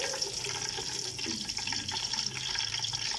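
Chilies and garlic frying in hot oil for a ridge gourd dish give a steady, dense sizzle that holds at an even level throughout, with no talking.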